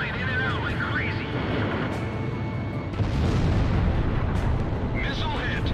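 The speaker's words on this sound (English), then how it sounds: "Missile hit." A missile hits its target in the aerial combat video game Ace Combat Zero: The Belkan War, amid a continuous roar of jet engines and rumbling explosions, with a voice speaking faintly over the din.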